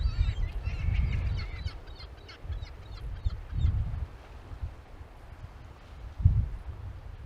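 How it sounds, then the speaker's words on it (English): Seagull calls squawk repeatedly over a steady low rumble of wind and surf on the Cornwall coast, with a few louder cries standing out near the end. "sound of the seagulls"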